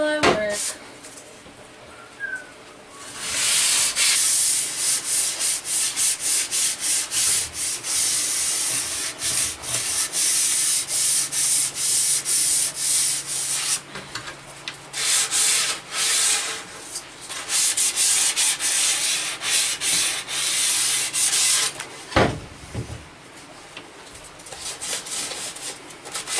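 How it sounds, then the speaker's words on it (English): Hand sanding of wooden furniture ahead of a wipe-on polyurethane finish: steady rubbing strokes that run in long stretches, with brief pauses between passes, close to the work. "I have given everything a light sanding and just kind of wiped everything down"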